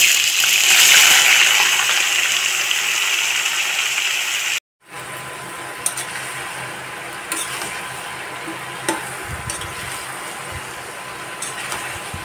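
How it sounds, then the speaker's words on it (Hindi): Okra drops into hot oil in a kadai and sets off a loud, close, continuous sizzling hiss. After a brief cut, a somewhat quieter steady sizzle continues with occasional small clinks. "तेल देखिए गर्म अच्छी तरह से हो चुका है तो इसमें अब भिंडी डालूँगी"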